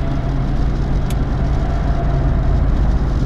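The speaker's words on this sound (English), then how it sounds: "As I'm driving down the road here at about 65 miles per hour" A 1974 Imperial cruises down the road at about 65 mph, its interior filled with a loud, steady low engine rumble and road roar that holds constant throughout.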